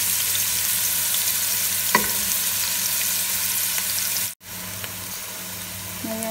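Butter sizzling in a hot frying pan, a dense continuous crackle with a couple of brief clinks and a sudden short dropout near the end.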